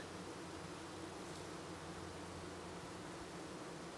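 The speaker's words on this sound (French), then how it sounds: "Une espèce de vrombissement là, très fort. Beaucoup d'abeilles avec les ailes, le derrière relevé puis les ailes qui battent." A honeybee hive hums with a dense, steady buzz of many bees fanning their wings, close and continuous, during a hive split in early May in Québec.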